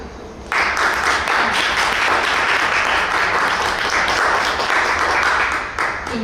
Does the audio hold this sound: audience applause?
yes